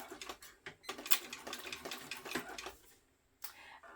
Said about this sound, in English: Back stitch well over this right here because that's a stress point.